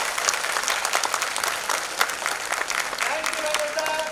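An audience claps loudly for the team behind the Veergatha program, a dense, steady wash of applause that holds for the full stretch, with a faint tone entering near the end.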